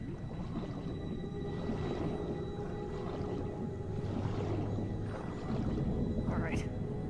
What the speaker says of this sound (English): Oh my god, I can swim with whales.